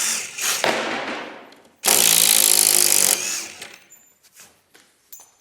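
A Ryobi HP impact driver runs one loud, steady burst of about a second and a half, driving a screw, with quieter handling and clatter before and after it.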